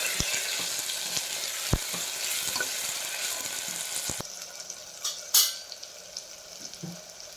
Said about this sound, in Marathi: तर त्यालाही छान असं तेलावर आपल्याला परतून द्यायचं.